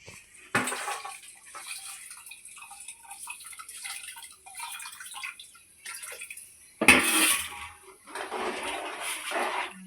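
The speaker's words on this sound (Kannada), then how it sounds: "ಈಗ ನಾಲ್ಕು ಗ್ಲಾಸ್ ಹಾಕಿದ್ದೀನಲ್ಲ ಈಗ ಇನ್ನೊಂದು ಗ್ಲಾಸ್ ಹಾಕ್ತಾ ಇದ್ದೀನಿ" Water poured from a glass into a pot of rice for tomato bath, soft intermittent splashing and trickling with a few louder gushes and faint clinks of kitchenware, no speech.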